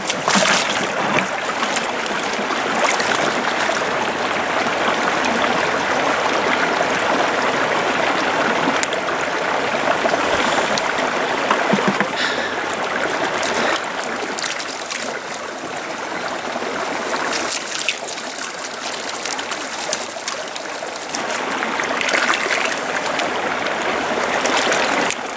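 Water from a bucket pours steadily into gold-panning gear on a family trip in Colorado, a continuous close rushing and splashing that holds for the whole stretch with slight surges.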